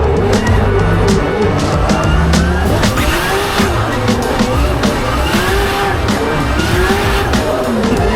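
Inside a drift car on a competition run at a world tour event in Ireland, a loud engine roars and revs alongside sustained, wavering tyre squeals and skids, close and continuous.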